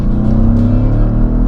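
A family Audi RS4 estate with a 420 hp V8 accelerates hard to overtake, its deep engine note loud and close, rising steadily in pitch as the revs climb.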